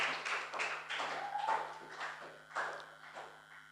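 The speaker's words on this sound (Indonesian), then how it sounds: "Ayo tepuk tangan." Students at a school student-council inauguration ceremony clap together in a hall, a steady patter of many hands with rising and falling bursts, moderately distant and without talk over it.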